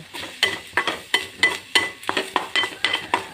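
Coconut, chana dal and coriander roast in a pan for mint thuvaiyal. Around a dozen brisk, evenly spaced spatula scrapes ring close and clear over a light sizzle.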